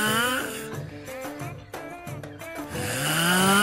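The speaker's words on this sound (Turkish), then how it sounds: "gece o kadar horluyorsun ki senin yüzünden yatamıyoruz ha" A thirteen-year-old boy snores loudly and steadily, with harsh rattling breaths that rise and fall, close up and alone.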